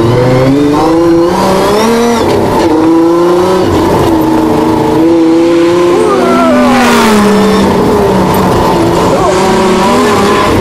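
A car pulls away hard, its engine revving loud and close through a rapid run of quick gear shifts, each shift briefly dropping the pitch before it climbs again, with a hint of tire squeal.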